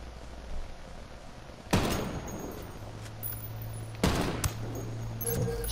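Two sharp, loud gunshots ring out a few seconds apart in Ghost Recon Wildlands, each with a short echoing tail over a low ambient background.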